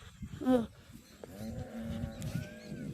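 A loose cow moos loudly nearby, one short low call followed by a longer drawn-out moo, over faint rustling background.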